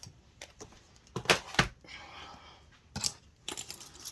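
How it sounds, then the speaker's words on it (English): Scissors and small craft bits being pushed aside on a tabletop: a few soft clinks, clacks and scrapes in separate bursts, close and fairly quiet. "I'm going to get rid of all my scissors and bits and pieces out of the way."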